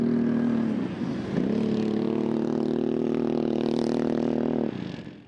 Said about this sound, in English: The hills of Horse Lake were filled with sounds of roaring engines as quad riders from around the region made use of the beautiful summer weather.